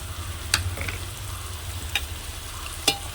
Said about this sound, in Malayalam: പൊടികളിട്ട് മിക്സ് ചെയ്യുന്നു.